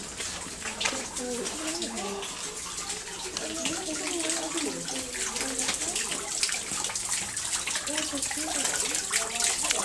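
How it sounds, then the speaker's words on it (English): Water sprinkler spraying outdoors, a steady close hiss and patter of water with a voice talking over it and faint birds in the background. "I'm gonna get caught in the sprinkler, Candy."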